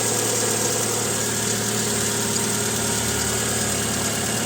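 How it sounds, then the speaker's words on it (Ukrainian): A 2007 Skoda Octavia Tour 1.6 petrol engine idles steadily, a smooth, even hum with no stumbles or revving, close by and continuous throughout. "Як бачите, двигуном не труси, працює рівненько"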